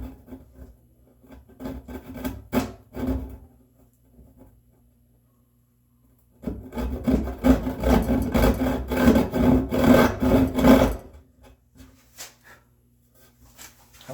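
A hand saw cuts a walnut board during final dimensioning of bookcase parts. A few short rasping strokes come first, then a pause, then a long run of steady, loud back-and-forth sawing close by.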